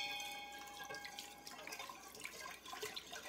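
Liquid poured into a slow cooker while Tuscan tortellini vegetable soup is being made, a steady close trickling and splashing stream with scattered drips and no talk.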